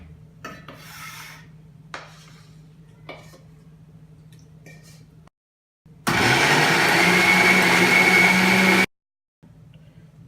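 A blender whirs loudly and steadily for about three seconds, blending cooled tomato-onion puree for kadhai paneer gravy, after quieter kitchen clatter and rubbing sounds.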